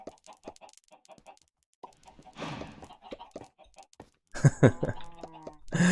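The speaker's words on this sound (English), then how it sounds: "They're chickens, guys. Definitely chickens." Minecraft chickens cluck in short, scattered bursts, quiet at first, then a louder flurry of squawking toward the end.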